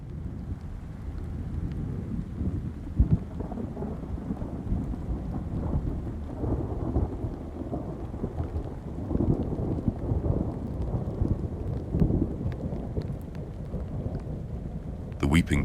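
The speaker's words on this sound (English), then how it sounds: "Duskbrook beneath the rain. The rain had turned to a steady whisper, thin as breath." Steady rain falls with deep rolling thunder rumbling continuously underneath, a dense, full wash of sound from start to finish.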